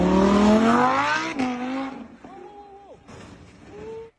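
A rental Corvette C8 engine howls as it accelerates hard, rising in pitch, then drops off. A voice speaks briefly afterward.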